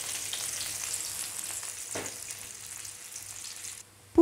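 Garlic and onions fry in a pan for a Maggi noodle stir-fry, a steady close hiss with a faint stir midway and a clatter at the end.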